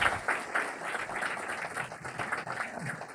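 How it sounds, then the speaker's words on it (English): An audience claps in a moderately loud, uneven patter, bursts of hand claps rising and dipping across a few seconds with no voices on top. "I want to invite everybody here to give you a round of applause for your extraordinary leadership."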